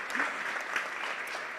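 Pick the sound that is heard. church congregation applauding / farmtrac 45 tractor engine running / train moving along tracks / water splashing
church congregation applauding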